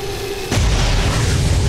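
A return shot in the video game XCOM 2 lands as a sudden heavy boom partway in, following a thin tonal hum and trailing into a rumbling decay.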